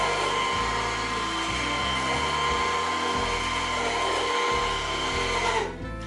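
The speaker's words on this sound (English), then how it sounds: "I'll mix it a little more just to make sure." Peanut butter blossom cookie dough being mixed: a loud, steady motor whir that dips and changes pitch as the load shifts, then cuts off near the end.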